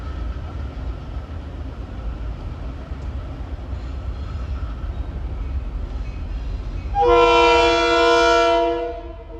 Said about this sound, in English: Approaching now is CTrail, train 4458, from New Haven to Hartford.